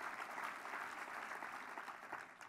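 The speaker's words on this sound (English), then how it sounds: "You can clap for that." Audience clapping fills a breakfast event hall during a congresswoman's speech, a steady, dense wash of many hands kept at moderate, roomy loudness for the whole stretch.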